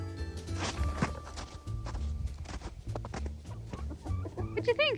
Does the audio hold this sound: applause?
no